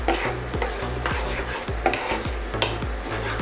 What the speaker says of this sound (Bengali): ডালটাকে আমরা হালকা করে ভেজে নেব